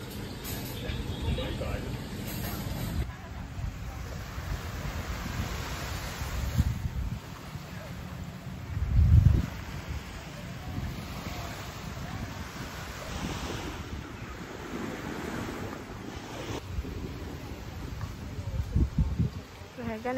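Waves washing onto the beach at Pangkor Island, Malaysia, a soft, continuous surf with a gentle wind rush and an occasional louder swell, heard at a moderate distance.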